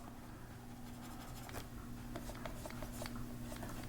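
A stylus scratches and taps across a drawing surface in quick, rough strokes. The sound is faint and close, sitting over a low steady hum.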